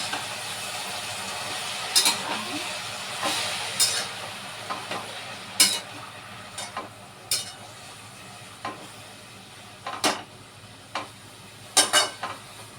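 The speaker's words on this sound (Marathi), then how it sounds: "छान हलवून घेऊया" Steady sizzling of fenugreek greens in a pan under repeated scraping strokes of a utensil, about a dozen irregular stirs over the continuous frying hiss, close by.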